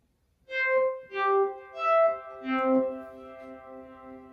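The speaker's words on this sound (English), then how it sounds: "Which is kind of like a bouncy reverb." Four clean guitar notes plucked one after another through a bouncy reverb pedal setting, each ringing with a lush, swelling reverb that blooms and sustains, the last note held.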